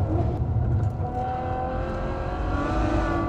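A Ferrari F12 Berlinetta accelerating hard on a track, its engine a loud, continuous roar with rising harmonic tones heard from close by, steady throughout with no voices.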